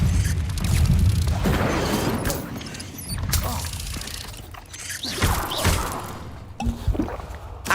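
Incendio fire spell cast in Hogwarts Legacy inside a cave, whooshing fiery bursts and booming impacts in repeated waves with game ambience between casts.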